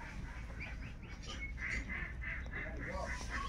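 Goose goslings bought at market chirp and peep in repeated high calls, fairly close, with a steady low background murmur.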